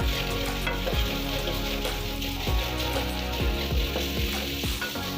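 Tomatoes fry in a pan for chow chow sambar, making a continuous close, dense sizzle with occasional stirring clicks and no speech.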